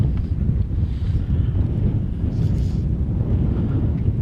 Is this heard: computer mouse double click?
no